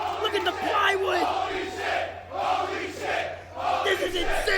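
A wrestling crowd at a cosplay match roars and chants wildly in loud surging waves, with brief dips between bursts of cheering.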